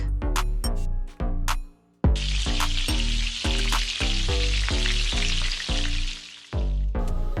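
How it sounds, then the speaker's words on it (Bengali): Onions and green chillies frying in mustard oil in a pot, loud close sizzling that swells and drops as ingredients go in, with repeated stirring clatter and no talk. "এর মধ্যে কিছু পেঁয়াজ কুচি এবং কাঁচামরিচ ফালি দিয়ে খুব ভালো করে লাল লাল করে ভেজে নিতে হবে"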